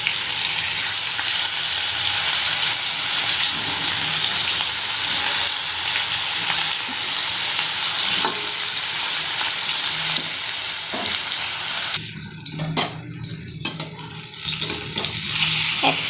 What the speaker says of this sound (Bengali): এক পিঠ হয়ে গেছে ভাজা।